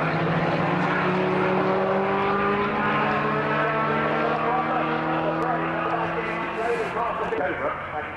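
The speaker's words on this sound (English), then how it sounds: "And the last car through is number 19, John Morgan in the Ginetta G50." A Ginetta G50 race car passes on a circuit during a sports racing and GT event, its engine note loud and sustained, rising then falling away over several seconds as it goes by, with commentary over it.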